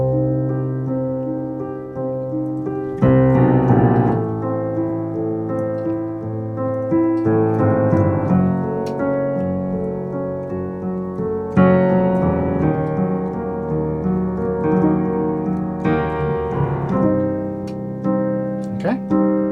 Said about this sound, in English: we can move down in semitones in the left